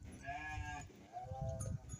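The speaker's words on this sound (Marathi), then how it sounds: "मेंढी इकडंच ओरडत राहते" Sheep bleat at the fold in the evening in two drawn-out wavering calls, one after the other, close but soft, over faint low farmyard background noise.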